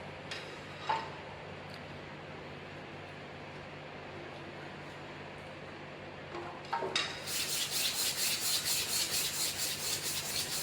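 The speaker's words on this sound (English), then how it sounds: "wear actions taking place between the abrasive material and the surface of the workpiece." Emery sheet rubbing nodular cast iron, a quiet, steady abrasive scrape under a low hum that turns into a louder, rhythmic back-and-forth rasping in the last few seconds.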